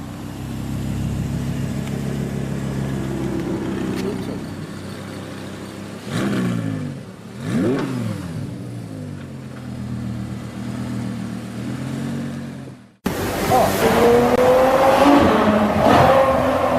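A 2015 Audi R8 V10 Plus engine revs hard in repeated rising and falling sweeps, close and loud, with a brief drop near the end before a sharp, loud burst of revving that follows.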